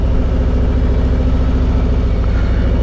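A Harley-Davidson Road Glide engine idles along at about ten miles an hour, giving a steady, close, low rumbling drone with no breaks and no voices.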